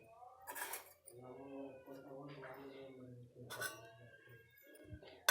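Metal utensils clink against dishes while rice, ragi mudde and sambar are packed into a lunch box, with a couple of sharp bursts of clatter and a voice talking through the middle.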